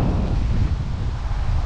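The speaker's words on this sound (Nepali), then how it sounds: "सही हावा चल्यो यार" Strong wind gusts buffet the microphone outdoors over a bare, muddy open ground, a loud, continuous rumbling roar that fills the whole moment with no voices.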